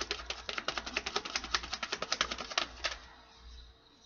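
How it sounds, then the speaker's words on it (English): A deck of slightly bent tarot cards is shuffled in a rapid, even run of crisp little clicks for about three seconds, close and quiet, then settles into soft room noise. "These cards are a little bent, so it's hard to shuffle."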